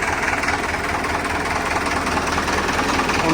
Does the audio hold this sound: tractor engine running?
yes